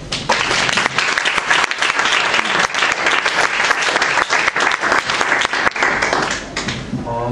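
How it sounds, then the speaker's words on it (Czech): A conference audience on Czech community media regulation claps together at the close, a lively burst of applause with sharp individual claps standing out, fading slightly near the end. "A jestli teda můžeme společně na závěr zatleskat."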